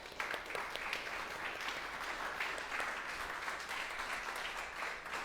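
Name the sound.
congregation applause for Jesus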